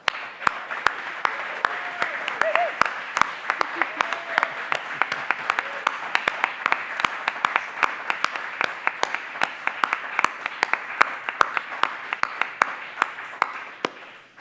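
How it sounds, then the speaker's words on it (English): Sustained applause from an audience at a city mayor's arts awards evening honouring award recipients, a steady wash of many hands with distinct sharp claps standing out, fading at the very end. "give a round of applause to all of the award recipients tonight"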